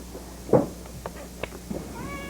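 A house cat meows once sharply indoors near a windowsill, followed by a few softer, brief chirps and mews nearby.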